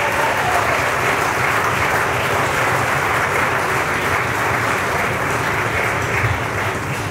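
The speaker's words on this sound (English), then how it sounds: "Can we please get a round of applause for the parents?" Wedding reception guests applaud the parents in a big room, a loud, dense burst of clapping that holds steady for about seven seconds with no talk over it.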